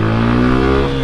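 A Suzuki Gixer motorcycle engine revs hard under acceleration, a loud, close, steady buzzing drone filling the whole second with no voices.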